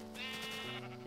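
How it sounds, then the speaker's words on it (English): Sheep bleating in the video game Minecraft, a sustained harmonic bleat rising and wavering for about a second, loud and close with no talking. "You sheep are very loud."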